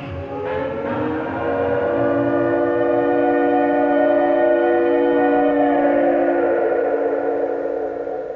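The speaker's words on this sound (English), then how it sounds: "When the all-clear sounds like this" Civil defense all-clear siren, a loud steady tone held at one pitch for several seconds before slowly tapering, heard alone without talk.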